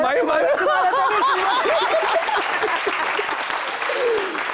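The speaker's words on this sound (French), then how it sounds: "Ouais, parce que applaudissez" Audience applause at a French-language live show, steady and dense throughout, mixed with cheering voices and chatter on top.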